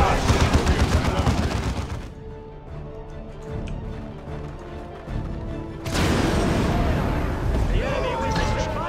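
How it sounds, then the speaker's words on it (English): Artillery fire and gunfire from the Warhammer 40,000: Dawn of War II: Chaos Rising video game, dense loud bursts of explosions and shooting that drop away briefly before returning with equal force. "They're dying to their own artillery."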